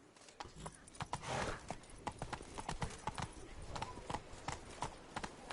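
A horse's hooves clip-clop in The Witcher III: Wild Hunt (Blood & Wine), a quick, regular run of crisp hoofbeats close by, with game ambience underneath.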